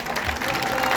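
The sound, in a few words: audience applause for tournament participants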